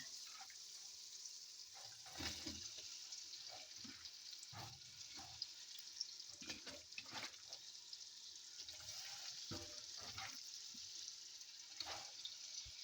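Beef liver slices sizzling in a pan with tomato paste for a Pakistani curry, a faint steady hiss with scattered soft pops and clatters of the pan, no talk.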